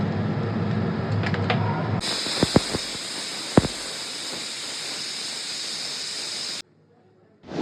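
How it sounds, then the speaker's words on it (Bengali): Steam hisses from a pressure cooker holding chicken curry, a loud, steady, sharp jet that starts suddenly after a quieter opening, runs for several seconds with a couple of knocks, then cuts off abruptly. "স্টিমটা বেরোনো অবধি ওয়েট করব"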